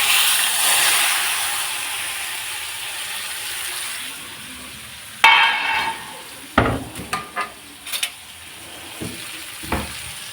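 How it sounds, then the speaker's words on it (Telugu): Eggplant pieces frying in hot oil in a pan, a steady sizzle at first, then sharp clatters and scrapes of pieces dropping in and being stirred. "ఇప్పుడు కొంచెం సిమ్లో పెట్టి ఈ కాయల్ని వీటిలోకి విడుస్తున్నాను అనమాట."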